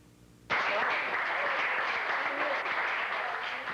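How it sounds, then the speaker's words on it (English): A round of applause breaks out abruptly and continues steadily as a senator enters a high school library in Manhasset, Long Island, in 1988; the clapping is loud and sustained with no talk over it. "Senator Alphonse D'Amato received a round of applause when he entered the library at Manhasset High School"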